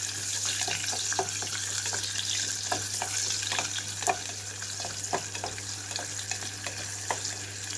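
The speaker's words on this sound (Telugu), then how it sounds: "జీడిపప్పు అంతా కలర్ మారేటప్పుడే ఇందులోకి కట్ చేసి పెట్టుకున్న ఉల్లిపాయలు వేసేసుకుంటున్నాను." Chopped onions frying with cashews in a pan for a fenugreek-leaf rice dish, a steady close sizzle marked by frequent soft stirring clicks and taps, no voices.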